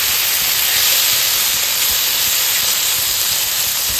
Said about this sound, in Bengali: মাছটা ভালো করে আমি এখানে কষিয়ে নিচ্ছি